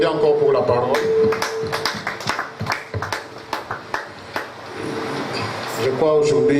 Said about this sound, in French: On applaudit encore pour la parole.